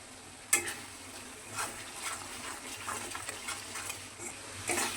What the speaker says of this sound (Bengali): এবার এটা ভালো করে ভাজতে হবে।